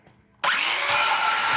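A cordless power saw, a Porter Cable 18V tool running on an adapted 20V Black & Decker battery, spins up abruptly and bites into a 2x3 wooden board, a loud, steady whining cut heard close and alone.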